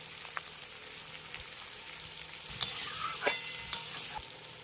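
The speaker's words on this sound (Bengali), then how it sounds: "এবার মশলার সঙ্গে এটাকে খুব ভালো করে কষাবো" Spices with turmeric and salt being stir-fried in a pan for a shrimp and mixed vegetable curry: a soft steady sizzle with a few sharper scraping clinks of the spatula near the end, no talk.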